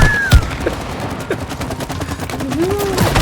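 Rapid, dense bursts of gunfire in the video game It Takes Two crackle almost continuously and loudly, with a few brief voice sounds mixed in.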